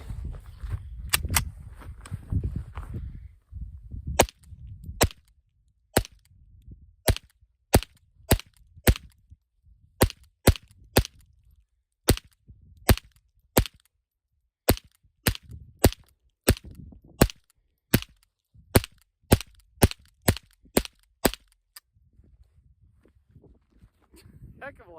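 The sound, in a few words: Ruger 10/22 .22LR semi-automatic rifle being fired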